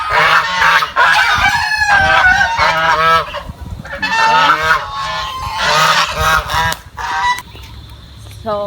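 Geese honking loudly and repeatedly nearby, a noisy overlapping chorus of harsh calls with other fowl, such as chickens, roosters and turkeys, mixed in.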